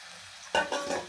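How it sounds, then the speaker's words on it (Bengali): Boiled potato being stirred with spices in a hot frying pan: a quiet sizzle, then a sudden scraping stir and a couple of further scrapes close by, with no talk. "এবার এই সেদ্ধ আলুটাকে খুব ভালোভাবে মশলার সাথে কষিয়ে নিতে হবে।"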